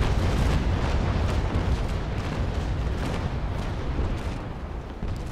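Warship cannons fire in Naval Action, an age-of-sail naval battle, as a dense, loud rolling barrage of booms blending into continuous thunderous rumble, slowly fading toward the end.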